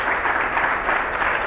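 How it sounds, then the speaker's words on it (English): A round of applause from a seated audience at a motivational talk, many hands clapping in a dense, even roar that stays loud and steady from start to finish without any talk over it. "Can you guys give a round of applause for that?"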